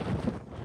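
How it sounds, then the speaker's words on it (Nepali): Strong wind buffets the microphone on the summit path of Scafell Pike, England's highest peak, a steady low roaring rumble with gusty swells, close and loud, with no voices. "कस्तो नराम्रो छ हावा चलेछ है"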